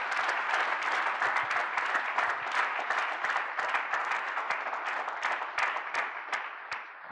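Strong applause from an audience, many hands clapping in a dense, continuous wash that holds at an even level throughout with a few sharper individual claps standing out.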